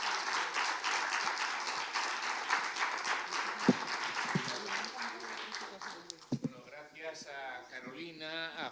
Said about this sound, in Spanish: un aplauso para los tres.